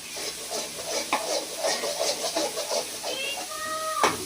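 Ginger garlic paste sizzles and hisses in hot oil in a pan while pepper chicken masala is being cooked, a steady frying crackle with light stirring clatter and one short metallic tone near the end.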